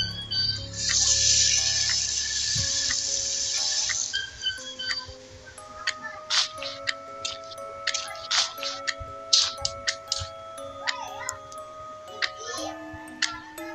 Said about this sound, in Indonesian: nyalakan keran.